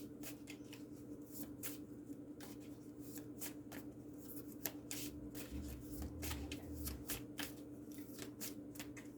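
A card deck riffled and shuffled by hand for a reading, a quick series of crisp papery flutters and snaps repeated over several seconds against a low steady hum.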